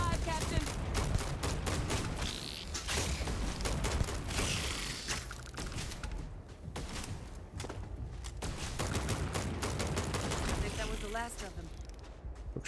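Bursts of gunfire and impacts in a Starfield battle against creatures on a very hard difficulty, repeated rapid shots scattered across the stretch amid busy game sound effects, with a voice speaking over parts of it.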